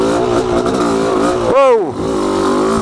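A motorcycle engine, flooded after riding through muddy water, runs loudly and steadily, then gives one quick revving surge that rises and falls in pitch before settling back to a rough idle.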